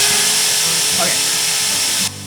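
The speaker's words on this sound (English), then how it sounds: "So go ahead and just switch the spindle on." Shaper Origin handheld router spindle switched on, a high steady electric whine filling the clip before dropping off sharply near the end, close and loud.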